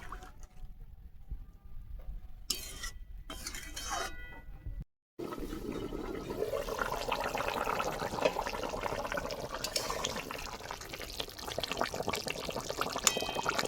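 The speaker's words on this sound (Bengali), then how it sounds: "আলু আর সব রকম মশলা কষানো হয়ে গেছে জল দিয়ে দেবো" Water poured into a pan of fried potatoes and spices for a fish curry. After a few brief breaks it becomes a steady, close rush of pouring and bubbling liquid that lasts for the rest of the clip.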